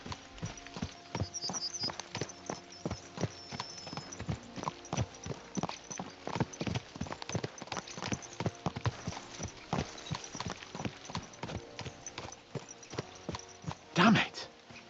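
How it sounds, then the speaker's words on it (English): Horses' hooves clip-clopping at a rapid, steady gallop in Kingdom Come Deliverance II, close and rhythmic for the whole stretch, with a brief snort or whinny near the end. "Let's really spur these horses on, eh?"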